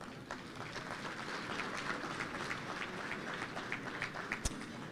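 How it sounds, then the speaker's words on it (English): An audience in a gala hall claps in a steady, dense round of applause lasting several seconds, moderately quiet and with no one talking over it. "So a round of applause for all you guys in here for being part of this great event"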